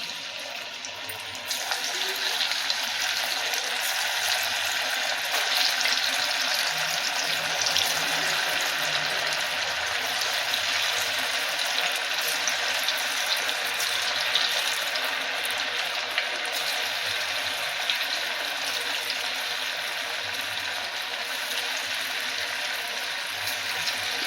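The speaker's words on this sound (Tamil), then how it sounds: "இப்போ நம்ம ஊற வச்சு இருக்கிற பன்னீரை எடுத்து ஒன்றுன்னா எண்ணெயில் விட்டுடலாம்." Marinated paneer fries in hot oil, a steady, loud hiss and crackle that continues unbroken for the whole stretch, close up and with no talking over it.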